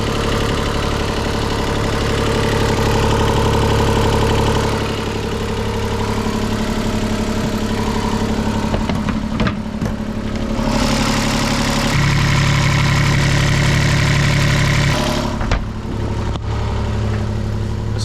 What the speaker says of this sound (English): fired the engine up, and a great success with the new water pump installation